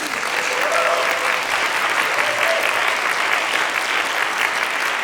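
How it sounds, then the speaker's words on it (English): A concert audience applauds continuously, a dense, steady wash of many hands clapping at even loudness throughout, with no pauses or talk. "can we just get another round of applause for our music?"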